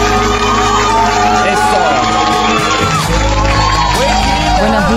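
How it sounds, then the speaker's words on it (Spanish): A studio audience at a live morning podcast show claps, whoops and cheers loudly and continuously, with shouting voices mixed into the dense crowd noise. "Fuerte ese aplauso, por favor."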